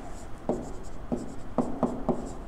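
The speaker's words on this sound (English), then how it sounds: "So I'm going to write it smaller." Chalk or marker strokes on a classroom board, about six short scratchy marks in an irregular rhythm, close and fairly clear, with no talking.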